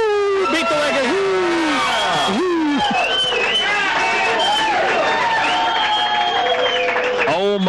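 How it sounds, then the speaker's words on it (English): Fans whoop and cheer at a Sacramento Kings fan contest hosted by a radio show, with several voices rising and falling in loud, excited yells and calls that overlap throughout. "let's hear a little enthusiasm out of this crowd"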